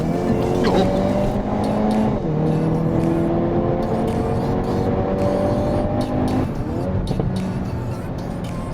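A Hyundai Kona N engine revs hard with rising and falling pitch, and sharp crackling pops burst from the exhaust between the pulls.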